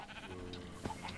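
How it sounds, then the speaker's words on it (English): A single short sheep bleat from the video game Minecraft, wavering and moderately loud, with a faint hum of game sound under it. "I'm gonna kill the sheep."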